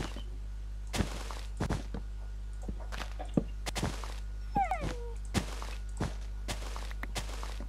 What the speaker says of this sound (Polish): Pies mi piszczy.